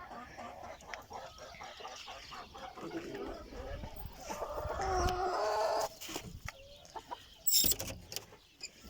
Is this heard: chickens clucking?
yes